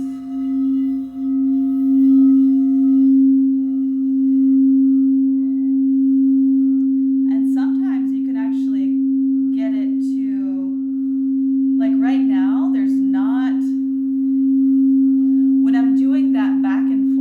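A crystal singing bowl, played at its side, rings as a single pure sustained tone for the whole stretch while a person talks over it in the second half.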